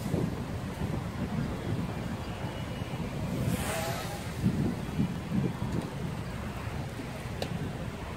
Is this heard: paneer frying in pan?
no